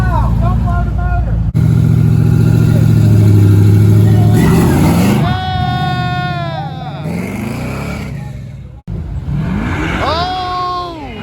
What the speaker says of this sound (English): Don't burn out! Don't blow the motor!